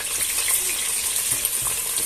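Peas sizzle and crackle steadily in a hot pan while being sautéed for a meat pilaf, with occasional stirring scrapes, close and continuous.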